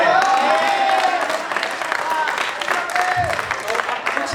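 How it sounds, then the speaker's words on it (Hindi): An audience at an open mic poetry session breaks into applause and cheering, a dense burst of clapping that stays loud across the moment, with scattered voices mixed in. "तालियां जरूर बजाना"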